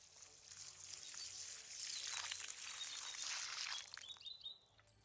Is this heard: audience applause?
no